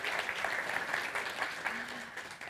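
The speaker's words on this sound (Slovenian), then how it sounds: "Si zaslužiš aplavz za tole." An audience applauds at a youth conference session, a soft, fairly distant patter of many hands that stays even and gradually thins toward the end.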